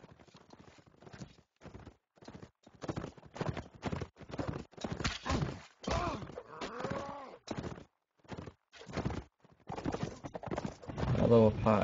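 Horse hooves clatter in bursts of rhythmic clip-clop during a cavalry battle in a multiplayer strategy game match, with a horse whinny and bird coos mixed in, under commentary.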